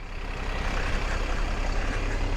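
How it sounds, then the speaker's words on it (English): A Stagecoach bus from Manchester pulling in at Blackpool, a steady heavy engine rumble and broadband road noise, close and continuous without a break. "We've got another bus coming down now."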